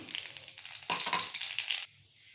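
Black cumin seeds dropped into hot oil sizzle in a crackling burst that swells midway and cuts off abruptly, tempering for a drumstick and mustard-paste dish, with no voices.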